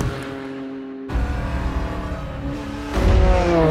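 A Toyota race car runs flat out, its engine note a loud sustained roar that shifts tone between gears and surges again near the end, heard close with no talk.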